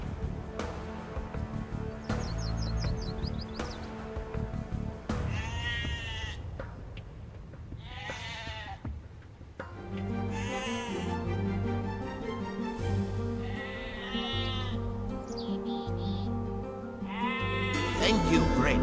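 Sheep bleat repeatedly in the Age of Empires II video game, several wavering calls scattered over a busy background of game music and sound effects.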